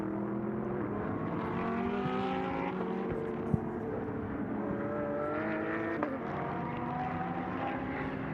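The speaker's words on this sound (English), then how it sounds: "the V10 in the Lamborghini against the V8 in the Ferrari, both incredibly quick in a straight line, these cars" Lamborghini V10 and Ferrari V8 GT race cars running on the Mistral straight in an Ultimate GT Sprint Cup race, a sustained engine drone with shifting pitch, steady and moderately distant throughout.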